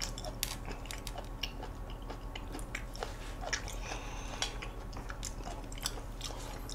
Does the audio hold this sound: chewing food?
yes